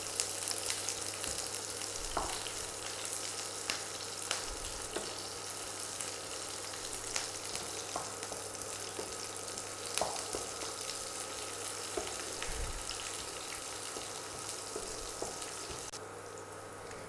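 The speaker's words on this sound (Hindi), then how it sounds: "इसके बाद फिर प्याज को भी डालना है, प्याज और हरा मिर्ची है इसको, और इसको थोड़ा से भून लेते हैं।" Onions and green chillies fry in a pan for a cauliflower, potato and pea dish, with a steady close sizzle and occasional soft clinks and scrapes from stirring. No one speaks.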